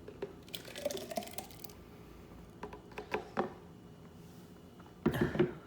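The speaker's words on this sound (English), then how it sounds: "let me pour it back into the Nutribullet cup" Carrot juice made in a Nutribullet is poured back into its cup, giving faint, sporadic drips and small liquid splashes with a slightly louder spill near the end.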